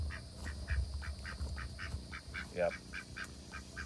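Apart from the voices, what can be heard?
duck quacking near chicken coop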